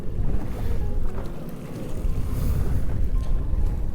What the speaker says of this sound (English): the waves, they probably don't look very big, but these are like 3-footers right here